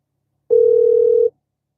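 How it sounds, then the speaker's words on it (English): A single steady tone of a phone ringing on a call, a pure pitch held just under a second, loud and close, with silence before and after. "Can you hear the ringing right now?"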